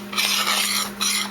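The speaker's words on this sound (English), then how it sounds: "I'm going to just stir this up." An arepa mixture is stirred in a bowl with a utensil, making two bursts of close scraping, swishing strokes over a steady low hum.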